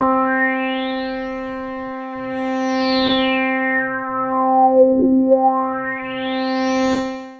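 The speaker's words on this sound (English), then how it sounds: "Which we call a filter sweep" A sustained synth tone with a resonant filter sweeping down and back up, its whistling peak gliding through the harmonics, alone and fairly loud.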